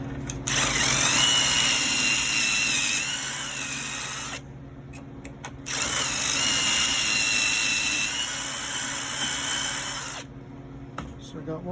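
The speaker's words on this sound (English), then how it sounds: "So I'm going to grab my drill." Power drill boring holes while building upper cabinets in a cargo trailer: two long, loud, high-pitched whining runs of several seconds each, separated by a brief stop, close by.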